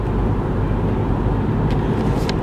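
Inside a moving car, a steady low rumble of road and engine noise drones on without a break, with a couple of faint higher rustles near the end.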